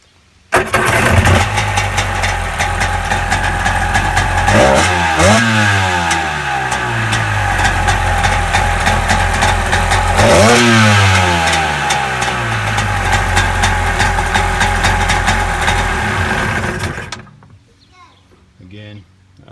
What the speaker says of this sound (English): It's firing on both cylinders. Revs out really good, sounds really good.